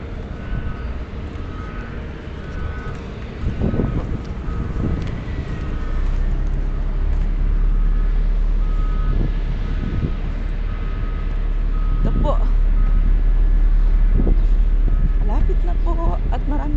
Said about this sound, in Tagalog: marami pong mga tunog ng sasakyan